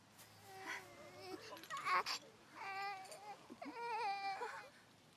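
An anime baby cries after dropping its bottle, a run of wavering wails rising and falling, close and fairly quiet.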